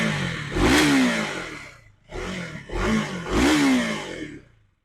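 A stock exhaust on a 2026 KTM Duke 250 Gen 3 BS6 single-cylinder motorcycle revs in three quick blips, each rising sharply then falling back toward idle, loud and close with no talking.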